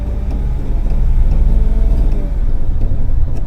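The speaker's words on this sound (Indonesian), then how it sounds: "Oke, mobil sudah berjalan." A manual car rolls along just after pulling away in first gear, a loud, close, steady low engine and road rumble that holds without clear revving, no voices.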